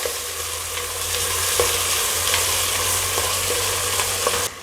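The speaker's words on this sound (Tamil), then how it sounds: "வெங்காயம் வதங்கும் போதே நான் இங்கே பச்சை மிளகா சேர்த்துக்கிறேன்" Sliced onion and long-cut green chillies sauté loudly in a pan, a dense, unbroken sizzle with faint stirring taps scattered throughout.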